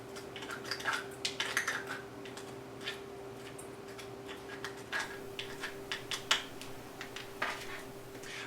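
A spoon scraping bone marrow from bones into a bowl, scattered soft metallic taps and scrapes in irregular bursts, fairly quiet, over a steady low hum in a kitchen.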